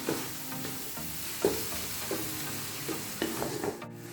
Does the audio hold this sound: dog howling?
no